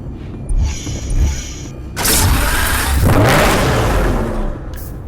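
Lamborghini Reventon in Need for Speed Hot Pursuit Remastered: a starter whirr and a brief engine catch, then a loud start-up bark that settles into a strong, sustained rev before easing off near the end.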